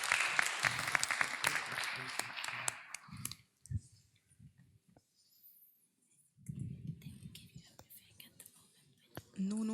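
Audience applause at an indoor chamber hall event, a dense burst of clapping for a pitching team that fades after a few seconds, followed by quieter room noise and murmuring voices.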